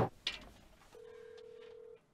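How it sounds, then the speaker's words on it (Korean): A telephone call is placed: a few faint clicks and button beeps give way to a steady ringback tone lasting about a second, quiet and close, with no talking. "이거 당장 은별에게 전화해서 어찌 된 상황인지 물어봐야겠군"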